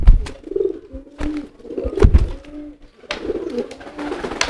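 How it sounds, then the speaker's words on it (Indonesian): A fantail pigeon coos repeatedly in soft, throaty rolls, close by, with scuffling and flapping noises between the calls. "ini merpati kipasnya"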